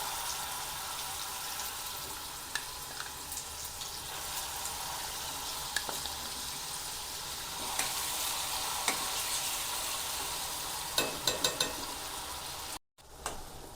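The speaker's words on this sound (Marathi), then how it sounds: "हे आपलं असं मसाले चांगले असे फ्राय झालेत" Whole spices, cumin and yogurt-mixed ground masala frying for matar paneer, a steady close sizzle with occasional spoon clicks and stirring scrapes against the pan, no voices.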